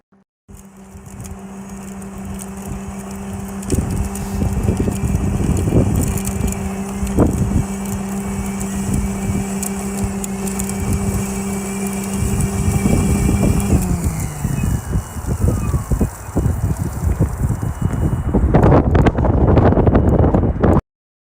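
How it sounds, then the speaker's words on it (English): Strong gusts of wind buffet an outdoor microphone near the Great Lakes, a loud continuous roar with a steady engine-like hum underneath that cuts out partway through, then heavier bursts of rumbling wind toward the end. "the wind picked up last few minutes"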